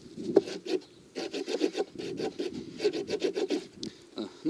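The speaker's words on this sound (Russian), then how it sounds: "Вот эта пила пилит менее агрессивно." Close-up sawing through wood with the small saw blade of a GAK-108 multitool knife: quick rasping back-and-forth strokes in bursts, with a short pause between runs.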